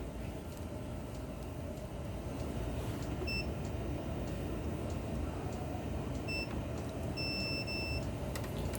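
A multimeter's continuity beeper sounds while a faulty Sinergex smart 12V battery charger is probed for a blown fuse: short steady tones come in bursts, one near the middle and a longer one near the end, over a constant low background hum.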